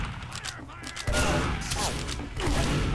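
Bursts of gunfire in the video game Team Fortress 2, rapid overlapping shots and impacts in two louder surges, dense and close with the game's action sounds.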